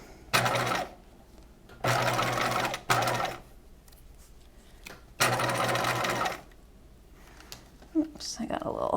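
Domestic sewing machine stitching a Niagara keyhole bodice from the bottom up, running in three steady bursts of a few seconds each with quiet pauses and a little handling noise between them.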